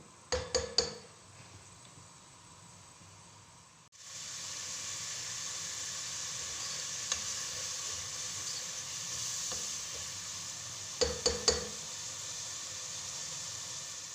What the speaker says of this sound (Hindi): ज़रा थोड़ा सा ये कर देंगे फ्राई